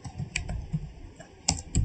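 Someone types a Java compile command into a terminal on a computer keyboard, a brief run of close, light key clicks at an uneven pace with no speech.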